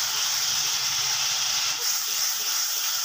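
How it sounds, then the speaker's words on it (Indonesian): Spice paste sizzles steadily in a hot pan while frying until fragrant, a constant loud hiss that holds through the whole stretch with only a brief dip midway. "Kita tumis sampai harum ya ininya."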